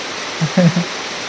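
A steady hiss of rain fills the background while a voice speaks a brief phrase.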